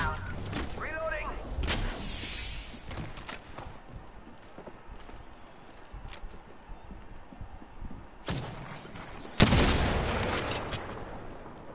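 Scattered gunfire sounds in the video game Apex Legends amid game noise and voices. Sharp bursts cluster near the end, with one especially loud crack.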